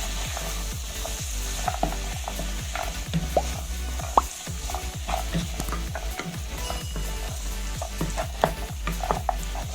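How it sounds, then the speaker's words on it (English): Minced beef stew is stirred in a pan with a rapid, continuous run of clicking scrapes and taps against the metal over a low sizzle, close up and steady throughout, with no talking. "I'm going to give this a stir."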